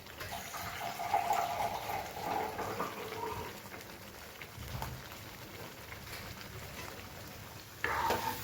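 Water poured into a pot of dal boiling on a gas flame, a splashing pour followed by quieter bubbling and stirring noises, close and fairly soft.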